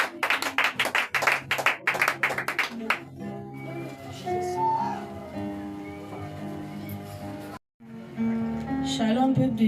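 A church congregation bursts into loud rhythmic clapping for a few seconds, then the claps give way to sustained singing and music filling the hall.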